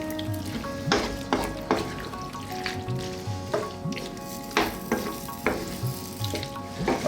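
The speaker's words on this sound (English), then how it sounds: "I'm going to let it go now for about 5 to 6 minutes, giving it a stir every now and then" Vegetable curry stew simmers and bubbles in a pan, with a steady low sizzle broken by repeated scraping stirs of a spoon against the pan, close and fairly loud, no voices.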